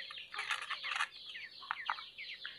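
A female wild buttonquail calls close by in soft, repeated clucking and cooing notes, with busier bursts at first and then sparser, separate calls.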